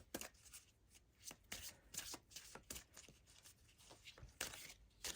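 Tarot cards shuffled by hand in a quiet room: repeated soft riffles and slaps of the deck in irregular bursts, close and faint, with no talking.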